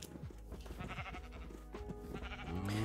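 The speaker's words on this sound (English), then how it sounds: "Come on, sheep. Sheep. Move." Sheep bleating in the Minecraft video game: a few close, loud, wavering bleats over nearly three seconds with no talking.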